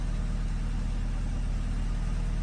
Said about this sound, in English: At the moment, it's running on its petrol engine